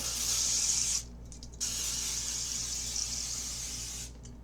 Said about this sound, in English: So we're going to use some cooking spray